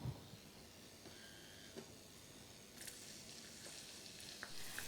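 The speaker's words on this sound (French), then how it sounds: "on va faire revenir notre oignon haché dans l'huile bien chaude" Chopped onion fries in hot olive oil in a saucepan, giving a soft, steady sizzle and hiss with a few faint clinks. It stays quiet and even throughout, with no talking.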